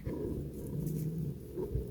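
A dog growls low and steadily for a couple of seconds, close by, with a brief rougher snarl near the end.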